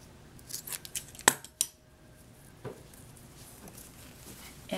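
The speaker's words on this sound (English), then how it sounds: "we're going to cut our yarn. So I got my scissors right here" Scissors snipping through yarn after a Tunisian crochet bind-off, a few sharp close clicks and snips clustered in the first two seconds, then quiet room tone.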